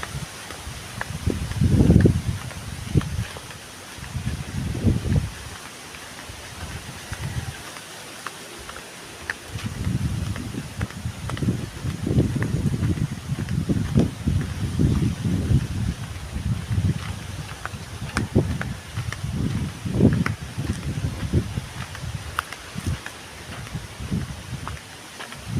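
Wind blowing outdoors, coming in uneven low gusts that buffet and rumble against the microphone, swelling and fading over a constant soft rushing background.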